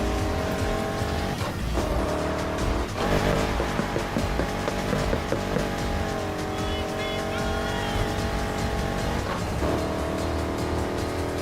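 A Ford Mustang race car in the video game Need For Speed Heat roars at full throttle throughout, with a steady loud engine drone and shifting pitch and occasional tire squeal.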